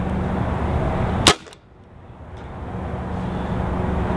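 A single sharp shot from a RAP4 468 DMR bolt-action training rifle, a loud crack standing out near the start, followed by quieter outdoor background ambience.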